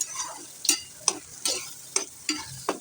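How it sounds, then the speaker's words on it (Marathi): Black masala stir-fried in a pan for a rustic village-style crab curry, with rhythmic spatula scrapes about every half second over a faint sizzle, close and alone. "आपला मसाला काळा झालाय जसा पाहिजे होता तसाच आपल्याला त्याला व्यवस्थित आता परतून"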